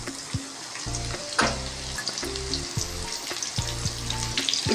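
Finely chopped onions with cumin sizzle in hot oil in a home kitchen, a continuous close crackling fry with several hard spoon-on-pan knocks and scrapes spaced through it, no voices.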